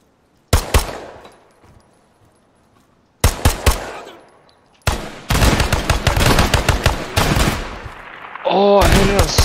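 Gunfire in the tactical shooter game Ground Branch comes in loud bursts separated by pauses, at first as isolated sharp shots and then as dense rapid fire, with other game sounds near the end.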